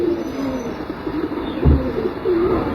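Male pigeons coo softly over steady outdoor wind and hiss as they land on a house roof.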